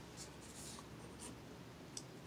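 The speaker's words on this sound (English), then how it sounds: "I'm going to cut this edge off, the excess off where I've been cutting" A blade is drawn along a straight edge to trim excess material, making faint, brief scratchy strokes in a quiet room.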